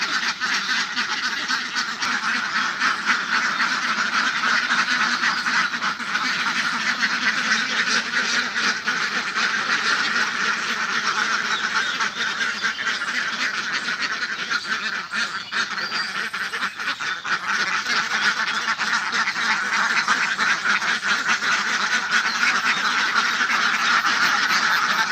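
A large flock of ducks on a village duck farm quacks loudly and without pause, many overlapping calls forming a continuous close-up clamour with no talking.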